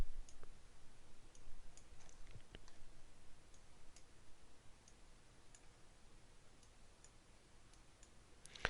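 Soft, scattered mouse clicks while working in Adobe Illustrator with the Smooth tool, faint irregular ticks spread across a quiet background with no talking.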